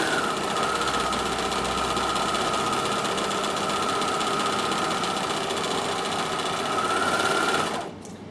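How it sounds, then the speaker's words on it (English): A Bernina overlocker stitches fabric fast and steady with a whirring, buzzing hum, close up and continuous, stopping abruptly near the end. "you just overlock the first one, like so"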